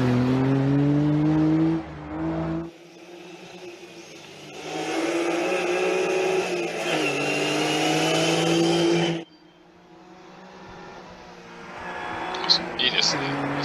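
A Subaru Impreza rally car on the Ikaho SS2 special stage of the 2024 TGR Rally Shibukawa, its engine droning loud and close with hesitant throttle, sharp lifts around gear changes and rising revs, while a voice talks over it.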